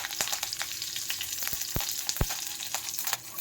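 Mustard seeds and curry leaves crackling in hot oil in a pan, a close, busy sizzle punctuated by sharp popping bursts at irregular intervals.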